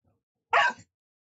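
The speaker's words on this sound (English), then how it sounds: "She's like sneeze barking." A dog gives a single short, sharp sneeze-like bark, close and abrupt, in an otherwise quiet room.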